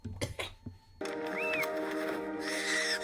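A bird cries in a Harry Potter movie scene, Goblet of Fire: after a second of quieter sound, a loud, dense, steady scene starts and a brief rising-and-falling cry rises above it.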